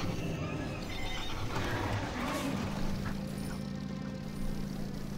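Horses neigh while pulling a sleigh in World of Warcraft Classic, a whinny rising over steady game ambience with faint hoof clip-clop, close and moderately loud.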